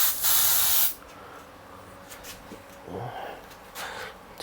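White paint sprayed through an airbrush with the safety cap still on, a loud, breathy burst of hiss lasting about a second, then quieter intermittent puffs and soft handling noises.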